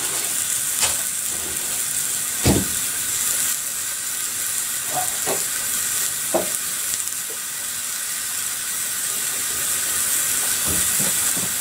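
Square sausage sizzles in a frying pan with a steady bright hiss, broken by a few louder pops and crackles close by.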